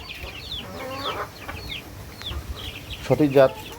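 Chicken chicks peep and cluck nearby in a soft, steady chorus. Low background noise runs underneath, and a louder burst of clucking comes near the end.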